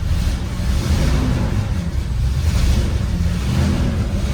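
A Mercedes-Benz 450SLC engine runs just after starting, producing a loud, steady low rumble with a continuous roar throughout and no talking.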